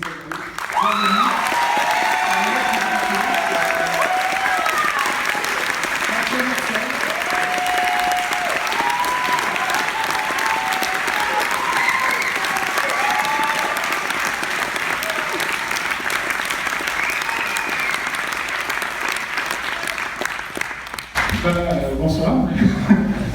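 A film festival audience in a screening hall breaks into sustained, dense applause that carries steadily for about twenty seconds before tapering off, with scattered laughter and voices mixed in near the start.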